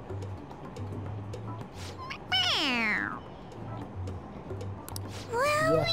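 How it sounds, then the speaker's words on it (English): A toy cat in Persona 5 Royal meows when its head is pressed, giving two clear, close meows that fall in pitch, set against a quiet rhythmic ticking game background. "It meows when you press on its head."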